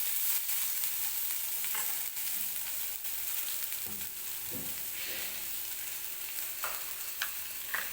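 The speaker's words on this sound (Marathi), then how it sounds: "तेल टाकल्यानंतर अगदी ते तडतडल्यासारखे होतात" Sweet corn kernels sizzle in hot oil in a kadhai, a steady, moderately loud frying hiss with occasional soft pops and stirring knocks throughout, with no voices.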